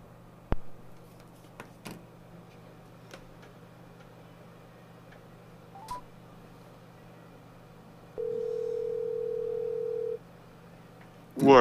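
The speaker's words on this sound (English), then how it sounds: "Alright, I'm calling you." A phone call's ringing tone sounds once as a steady two-second beep amid faint ticking and quiet room noise, with a burst of sound at the end.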